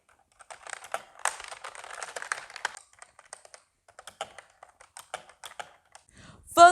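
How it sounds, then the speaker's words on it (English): Rapid keystrokes on an MSI Infinite S budget gaming PC's mechanical membrane keyboard, a dense burst of clicky taps that thins into scattered presses, close and clear with no talk. "the clicking experience on this thing is pretty decent to me"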